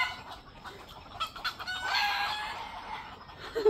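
Chickens roosting in trees at night cluck and chatter noisily, with a crowing rooster rising briefly among the busy, moderately close flock calls.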